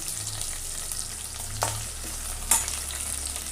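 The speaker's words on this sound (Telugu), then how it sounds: "పప్పు ఒక సైడ్ వేయించుకోవాలి కొంచెం." Dal (lentils) frying in a pan, giving a soft, steady sizzle with a low hum beneath it and two brief sharper scrapes or clinks partway through, with no voices.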